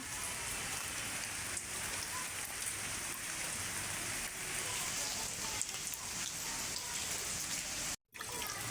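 Rain falls steadily with a soft, even patter and occasional drips, fairly quiet, cutting out briefly near the end.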